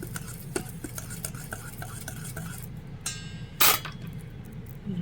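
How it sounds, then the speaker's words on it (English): A whisk working baking powder and salt in a bowl, a quick rhythmic run of light taps and scrapes, then a brief louder clatter near the end. "I'm going to whisk that up"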